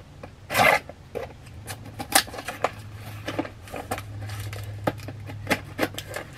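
A mail package being cut open by hand, with a series of short scraping and slicing rasps and crinkling cardboard or plastic, close up and uneven in rhythm.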